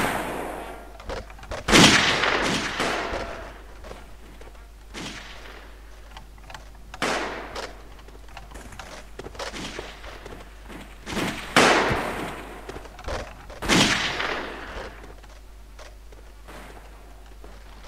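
Rifle fire in the trench-warfare game Blood & Iron: several separate shots, some loud and near and others faint, spaced irregularly over low ambient noise.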